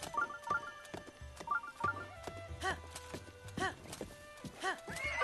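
In Zelda: Breath of the Wild, a ridden horse's hooves clip-clop in a steady beat while synthetic chimes ring out and a whinny rises partway through, all set against the game's background sound.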